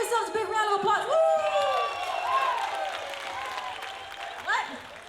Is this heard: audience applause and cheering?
yes